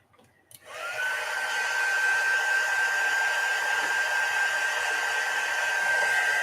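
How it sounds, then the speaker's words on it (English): A blow dryer switches on close by and keeps running to dry a mixed media painting, a loud, steady whoosh with a faint whine. It lasts throughout with no talking. "go get the blow dryer."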